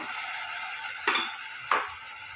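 Brinjal and drumstick pieces sauté with onion and tomato in a pan, a steady soft sizzle broken by two distinct stirring scrapes, close and alone.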